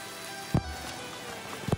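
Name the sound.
heavy rain falling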